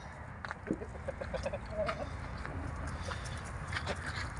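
Hens clucking and scratching around their coop in the evening, with soft farmyard shuffling and occasional faint bird calls over steady background noise.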